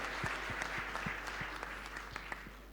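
An audience at a fund launch event claps hands, a steady patter of scattered individual claps, fairly faint and distant over a low hum.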